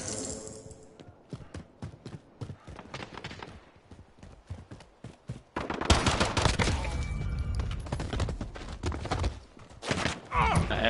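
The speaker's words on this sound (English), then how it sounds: "I shot the guy 3 times with a pistol!" Pistol gunshots in a shooter video game, a run of sharp cracks in an irregular rhythm, followed by a louder, denser stretch of game noise with overlapping bangs.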